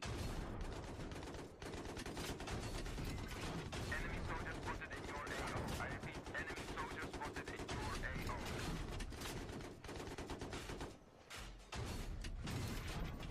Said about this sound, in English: That's the canister shell. It lets you shoot pretty frequently too